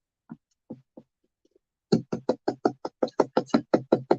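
A container of hot chocolate mix is knocked to loosen the powder: a few scattered taps, then a fast, even run of about a dozen firm, close knocks.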